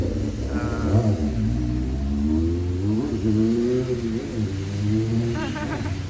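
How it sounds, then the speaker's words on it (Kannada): A Honda 250cc motorcycle engine revs in rising and falling pulses, a throaty mid-pitched growl that swells and dips several times over a few seconds, close by and loud, with a faint voice briefly in the background. "ಒಳ್ಳೆ ಹೋಂಡಾ ಬೈಕು ನೋಡಿ"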